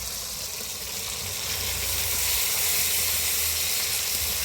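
Ginger paste goes into a sizzling tomato curry in a pan, giving a steady, loud hiss of frying that swells slightly midway. No voices are heard.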